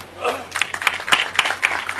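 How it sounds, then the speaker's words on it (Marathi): Audience at a public speech in Pune clapping slowly and unevenly, separate hand claps spaced roughly a quarter second apart, close and moderately loud. "ते टाळ्या वाजा म्हणजे हळूहळू असं वाजते"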